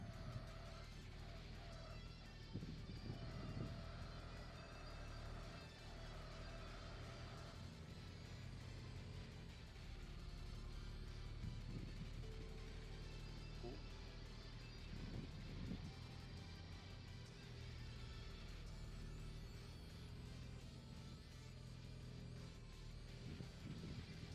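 Toyota Supra and Viper engines drone steadily in Tokyo Xtreme Racer Zero, a dense continuous hum with faint rises in revs and occasional low swells, fairly quiet throughout.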